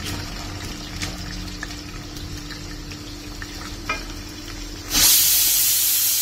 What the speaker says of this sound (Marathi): पनीर 5 मिनिट फ्राय झाल्यानंतर त्यातच वाटाणे पण फ्राय करून घ्यायचे